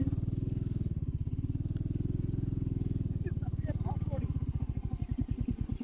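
A motorcycle riding along a road, its engine thumping in a steady close rhythmic pulse that quickens slightly toward the end, loud and continuous.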